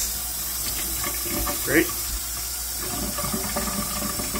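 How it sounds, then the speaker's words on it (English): Tap water runs steadily onto a metal sink bridge over a kitchen sink, a continuous splashing hiss with a brief louder spatter near the middle; a voice speaks a word. "you can see when I run water over this"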